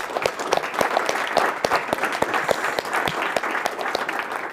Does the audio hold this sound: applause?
yes